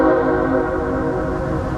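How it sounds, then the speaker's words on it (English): A CSX freight train rolls through the Main Street Station in Richmond, Virginia, giving a steady, loud rumble with sustained horn-like tonal layers and no break in the sound. "CSX coming through."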